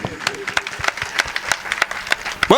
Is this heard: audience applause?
yes